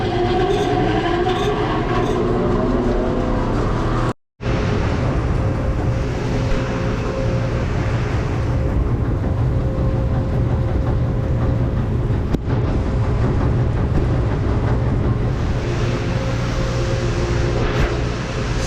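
A farm harvesting machine runs during the corn harvest, a loud, steady mechanical drone with rhythmic rattling that continues throughout, broken only by one brief dropout.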